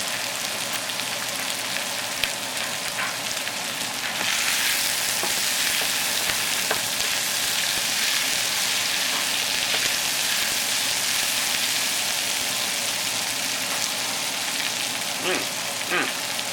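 Onion cooking in a hot pan for pasta sauce, a continuous loud hissing sizzle that swells partway through and then holds steady, with occasional light clinks and no talk.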